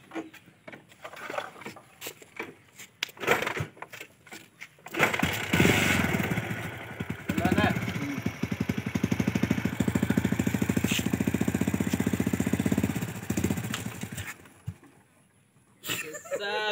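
A motorcycle in poor condition runs with a rough, sputtering engine note that starts abruptly and holds steady for several seconds before cutting off, with people talking around it.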